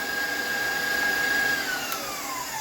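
An electric stand mixer fitted with a paddle beats batter for a baked almond and nectarine tart, giving a steady, continuous motor whir with no talking.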